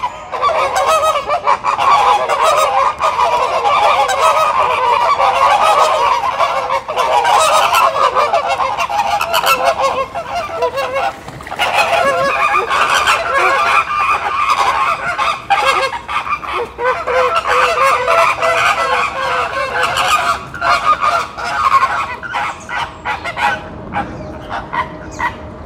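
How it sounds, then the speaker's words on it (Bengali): A flock of flamingos at a zoo in Portugal honks constantly, a loud dense chorus of goose-like calls layered close together throughout, with no voices. "ফ্লেমিঙ্গো পাখি, ফ্লেমিঙ্গো কি জিনিস ভাই।"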